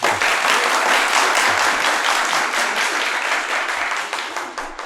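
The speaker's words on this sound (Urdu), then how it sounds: "یہ تالیاں نہ بجتی" Audience applause, dense and loud clapping from a crowd that holds steady, then thins and fades toward the end.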